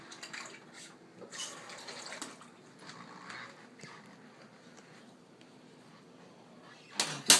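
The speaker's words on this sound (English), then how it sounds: "And rinse my spoon off." Tap water runs briefly over a spoon at a kitchen sink while kimchi ingredients are prepared, a soft, uneven splashing trickle in short bursts, fairly quiet and close, with a sharper clatter right at the end.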